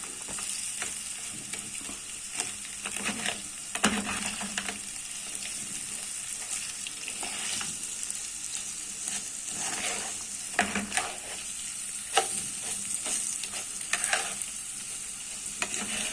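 Rice is sautéed and stirred in a pot with a continuous sizzle, broken by repeated scraping and clinking from the spoon against the pot throughout, with no voices.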